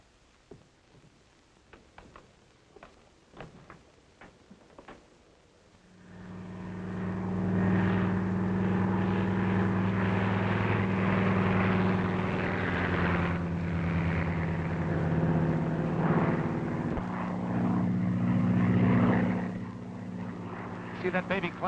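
A propeller airplane in a 1941 drama takes off and climbs: after brief voices, a loud, steady droning engine roar with strong humming tones swells in and holds, close and sustained, with slight wavering in pitch as it climbs.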